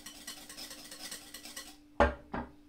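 Sweetened condensed milk is stirred into an ice cream mix, giving a soft continuous scraping swirl in a bowl, followed by two sharp knocks of the utensil against the rim, quiet and close.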